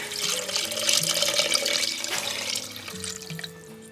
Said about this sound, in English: What I'm going to do is add 3 cups of water.